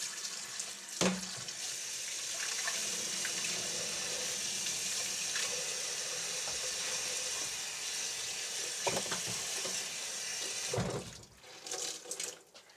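Tap water runs into a kitchen sink during rinsing, a steady close rush that lasts for most of the stretch before being shut off near the end, followed by a few faint handling clatters.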